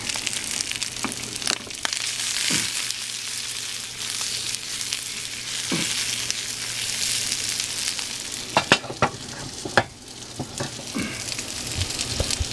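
Potatoes and onions fry on low heat in a pan for a SPAM frittata, a steady loud sizzle with occasional clinks and scrapes of stirring near the end.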